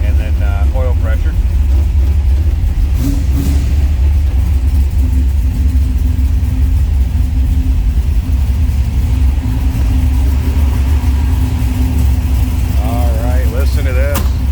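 A 1968 Plymouth GTX with its 440 V8 engine runs with a deep, steady rumble close by. Brief voice-like sounds come in near the start and the end.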